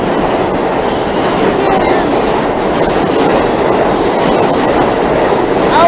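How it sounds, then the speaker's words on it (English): A New York City subway train rumbles past close by, a loud, steady roar of wheels clattering on rails with faint metallic squeals, and no talking. "There's a train."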